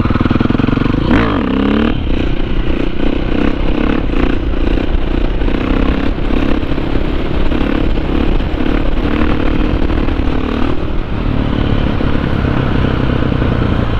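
A dirt bike engine, of the 250 to 530 class, revs and blips continuously and loudly during wheelie practice. Clattering and rising throttle pulls run through the clip, and no speech is heard.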